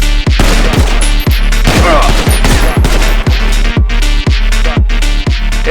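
Rapid gunfire from the player's weapon in GTA 5, very loud, close, sharp shots fired in quick succession with an even rhythm over a deep, steady bass rumble, with no talking.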